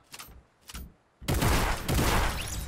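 Gunfire in the video game Fortnite: a couple of short, quieter bursts, then a loud sustained volley of rapid shots that keeps going to the end, close and dense.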